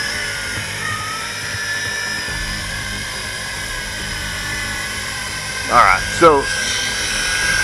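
YiZhan i8H Tarantula quadcopter drone buzzing in flight on a calm night, a steady high whine with faint tonal hum throughout, and someone speaks briefly near the end.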